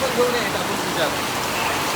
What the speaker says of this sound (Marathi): काय पाऊस आहे बघा बाहेर